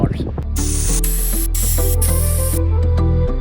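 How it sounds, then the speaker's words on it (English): Air rushes from a vehicle tire through a quick-release air valve while it is aired down to 12 PSI for off-road overlanding: a loud, steady hiss of about two and a half seconds over background music, then cutting off. "We're gonna air down to 12 PSI today. Got this quick release air valve here."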